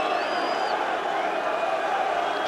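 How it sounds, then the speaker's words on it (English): Terrace crowd at Reading FC against Wolves in the 1994/95 season, a constant murmur of cheering and shouting from the stands, even in level throughout with a faint whistle-like tone rising briefly early on. "And of course the crowd are with them all the time."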